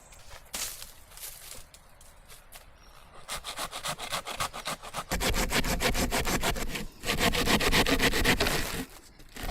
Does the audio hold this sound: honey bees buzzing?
no